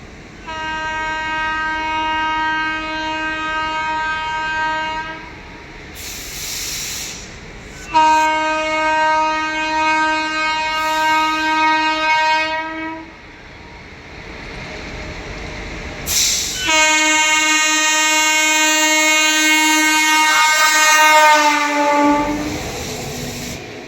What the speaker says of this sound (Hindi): क्योंकि आ गई है पीछे से कानपुर शताब्दी एक्सप्रेस, कानपुर की शान शताब्दी एक्सप्रेस WP 7 के साथ